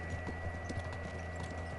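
Horse hooves clip-clop at a steady trotting rhythm in the medieval game Kingdom Come: Deliverance, layered over a continuous low background hum, with no talking.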